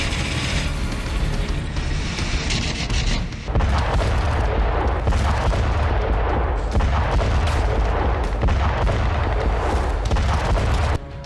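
Heavy gunfire and booming blasts from a Russian airstrike on Ukrainian positions near Krasny Liman, a dense, loud barrage of bursts and explosions continuing throughout, with no voices.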